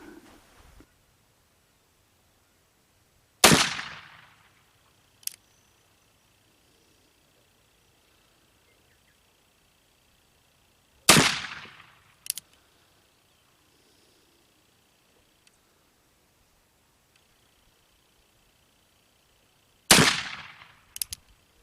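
A Pietta 1860 Army black powder revolver fires three loud, sharp shots with long pauses between them, each followed by a short echo and a small metallic click.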